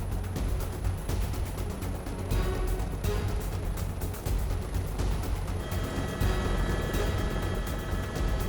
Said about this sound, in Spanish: un helicóptero recogerá a un grupo de agentes en la azotea de un edificio